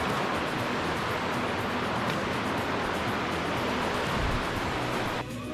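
Steady broad rushing of river water flowing through the Zion Narrows canyon, a constant close wash with a faint splash near the end and no voices.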